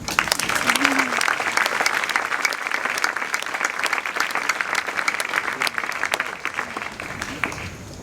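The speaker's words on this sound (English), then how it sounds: "Please give them a round of applause." Audience at a Year 12 school graduation ceremony claps steadily in a sustained burst of applause lasting several seconds, dense and even, tapering slightly toward the end.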